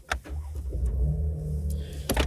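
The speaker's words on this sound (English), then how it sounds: "We're going to start the car here and get going again." A car engine cranks and catches after a stop at a coffee shop, giving a short click, then a steady low idle hum that settles in, and a few sharp clunks near the end, close up inside the cabin.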